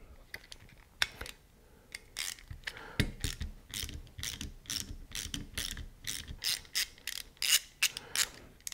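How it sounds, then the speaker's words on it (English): A socket on a ratchet handle clicks rapidly while loosening a small nut on a low-profile Harris bipod mount, with close, irregular bursts of pawl ratcheting and small metallic knocks. "we're going to take off this nut right here, and we're going to use our socket for that"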